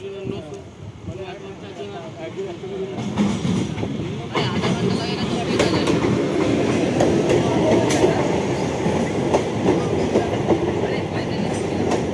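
Kalyani Simanta–Sealdah local train pulling in at a suburban station platform, a steady rumbling roar of rail cars building and holding loud, with station announcements and voices in the background.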